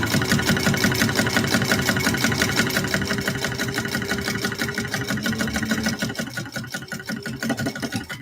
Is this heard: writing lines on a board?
no